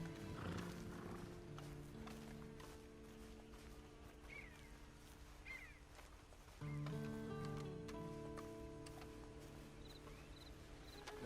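Horse hooves clip-clop in Red Dead Redemption 2 Online, a quiet, steady walking rhythm with an occasional neigh, heard alongside soft ambient game sounds.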